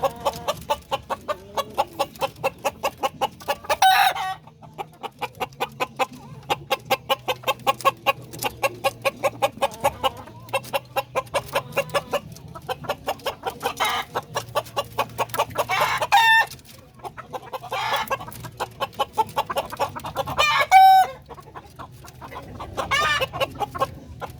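A rooster and several hens on a farm cluck repeatedly in quick rhythmic bursts, with louder squawks and crowing-like calls rising over the steady clucking, close and clear, with no talk.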